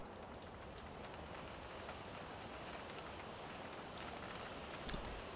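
Rain in a farming video game, a steady soft hiss of falling drops with no voices, fairly faint throughout.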